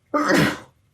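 A single loud, close sneeze bursts out during a tabletop role-playing podcast session and is followed by quiet.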